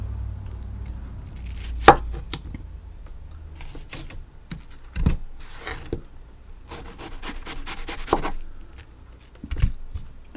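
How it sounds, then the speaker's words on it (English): A knife cuts white rind off a watermelon, giving several separate close chopping and scraping strokes against a board with quiet pauses between them and no talking. "If I accidentally leave some white on there, just go right through with the knife"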